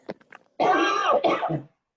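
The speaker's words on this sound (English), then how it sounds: "someone's got a cough there" A person on a group video call coughs or clears their throat in one harsh burst followed by a shorter second one, close and loud after a few faint sounds.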